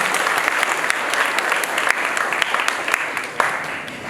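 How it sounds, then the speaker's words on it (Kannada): An audience at a college inauguration ceremony bursts into loud, sustained applause, a dense patter of many hands clapping from start to finish, with no voices standing out. "ಜೋರಾಗಿ ಚಪ್ಪಾಳೆಯಾಗಿ ಒಂದ್ಸರಿ ನೋಡೋಣ."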